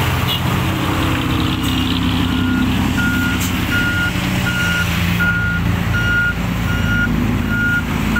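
Ten-wheel dump trucks working alongside four Kobelco SK200 excavators at a dirt pit in Buriram, Thailand, with a loud diesel engine rumble under a steady, evenly spaced reversing beep that repeats throughout.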